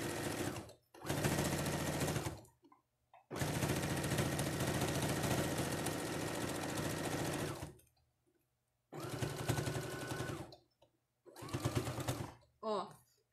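An industrial straight-stitch sewing machine stitches slowly through a thick, heavily folded bag pocket, running in several long whirring bursts separated by pauses, loud and close, with a brief voice near the end.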